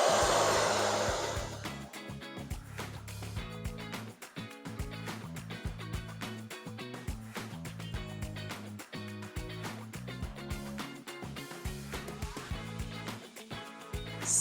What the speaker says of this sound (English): Sometimes I will hold my hand under the base like this and blow dry in a circular motion